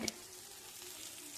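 A quiet, even sizzle of fish frying in a pan on a low flame, opening with a small clink and then steady hiss.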